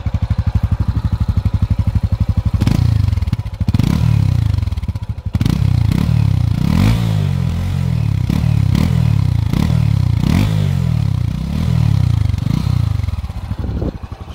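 A Honda Sahara 300 motorcycle engine idling and then revving in a series of sharp, repeated throttle blips. Loud and close, with a steady mechanical clatter between the revs and no talk.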